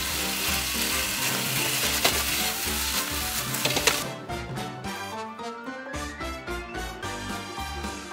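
Liver and garlic chives stir-fried in a wok over high heat, sizzling loudly and continuously with scraping and tossing clatter, the sizzle easing midway as the food is stirred, with no talking.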